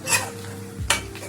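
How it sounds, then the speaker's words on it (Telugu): Onions and garlic fry in hot oil and get stirred, with a bright crackling sizzle, a scrape of utensil against the pan and a louder stir near the end, close and with no talking. "ఆనియన్స్, వెల్లుల్లి మంచిగా ఆయిల్లో ఫ్రై అవ్వాలండి."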